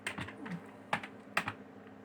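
Close, quiet clicks of a computer keyboard as someone types C code, irregular keystrokes with a few sharper taps, no voices.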